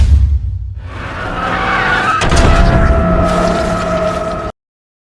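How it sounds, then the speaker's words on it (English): A Lamborghini skids hard in a racing film scene. A loud, close tire screech rises and holds for several seconds over engine noise, then cuts off abruptly. "Toby managed to evade Dino's devious action, and he got into a terrible accident with his Lamborghini"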